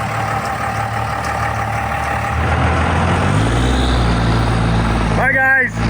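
A ramp truck's engine rumbles steadily as it pulls away, a continuous low drone with a brief higher hiss or squeal near the end.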